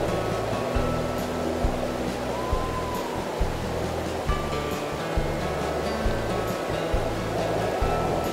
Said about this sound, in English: even when closed, strong gusts of wind continue to ruffle the water